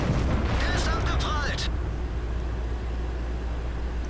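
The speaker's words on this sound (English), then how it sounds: "Bounce a shot on the M103 there" In World of Tanks, a tank shell bounces off an M103 heavy tank with a loud, heavy boom and crack over a constant deep engine rumble, while a voice is faintly heard over the start.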